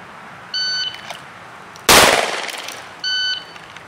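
A single loud handgun shot fired from the draw during a five-yard shooting drill with a Beretta 92 LTT pistol, bracketed by short electronic shot-timer beeps before and after, the shot's crack decaying over about a second.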